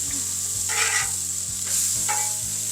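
Bone-in pork chops sizzle on a Blackstone flat-top griddle, a steady close hiss broken by several metal spatula scrapes and flips, with no talking.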